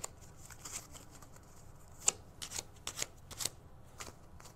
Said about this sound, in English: You can do an overhand shuffle.